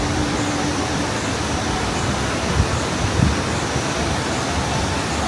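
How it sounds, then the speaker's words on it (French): Steady broadband rush of the third waterfall at a tourist site in Vietnam, a continuous roar of falling water filling the scene evenly, with faint low thumps of movement nearby and no speech. "Et on vient d'arriver vers la 3e cascade."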